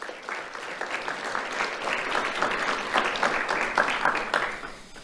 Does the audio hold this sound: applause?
yes